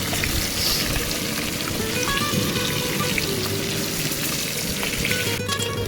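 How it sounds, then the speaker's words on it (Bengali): Close, constant sizzling of hilsa fish pieces and bones frying in hot oil, a bright crackling hiss with occasional small pops throughout. "আমি ওই কাঁটাকুটিগুলো তেলের মধ্যে দিয়ে ভালো করে ভেজে নিয়েছি"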